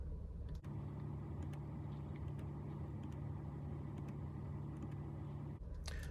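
A 2019 Jeep Grand Cherokee engine running, a steady low rumble from inside the car that holds evenly for several seconds with brief breaks at the start and end.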